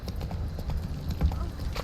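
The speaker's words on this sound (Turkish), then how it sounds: "Burada atı kullanabiliriz" Horse galloping in The Witcher 3 video game, a steady, rhythmic clip-clop of hooves that continues throughout, fairly close, with a faint whinny-like swell near the end.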